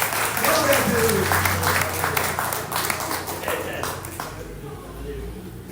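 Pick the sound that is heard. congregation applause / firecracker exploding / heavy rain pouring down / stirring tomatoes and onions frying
congregation applause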